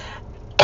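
A single short cough from a person with a cold, sudden and close, after a quiet moment.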